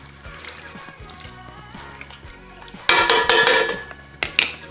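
Fabric dye is stirred in a bucket, with soft sloshing followed by louder clattering, scraping knocks of the stirring utensil against the container in quick irregular strokes.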